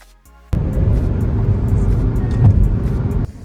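A car drives along on a gray, overcast day, its engine and road rumble starting abruptly and holding steady and fairly loud for about three seconds before cutting off.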